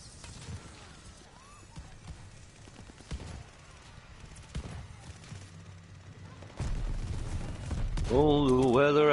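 Rapid hip-fired gunshots in the first-person shooter Vanguard crack out in uneven bursts over a busy game mix, growing louder near the end while someone talks across the action.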